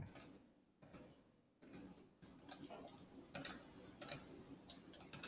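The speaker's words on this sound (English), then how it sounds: "I'm typing." Typing on a computer keyboard, a series of crisp key clicks coming in uneven bursts with short pauses between, close and fairly quiet, no talking.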